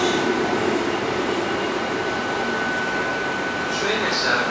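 A triple-header train, three locomotives, rumbles past steadily nearby at Cardiff Central station, a broad continuous roar with a faint high whine running through it.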